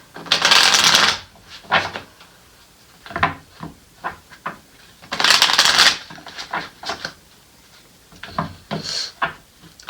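Tarot cards shuffled in loud riffling bursts, three longer runs separated by quieter taps and slides as single cards are drawn and laid down, all close and with no talking.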